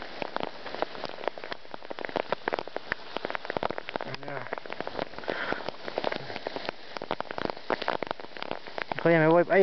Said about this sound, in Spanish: Está cayendo granizo.